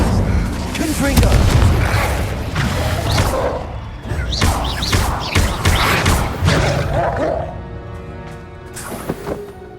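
A Confringo fire spell explosion in the Hogwarts Legacy video game: repeated heavy booms and crashing blasts over several seconds, loud and close, with talking throughout.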